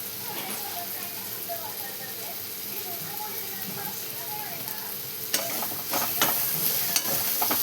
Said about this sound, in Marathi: आणि असं छान मस्त परतून घेतलेले बघा आपली कोथिंबीर कांदा टमाटर.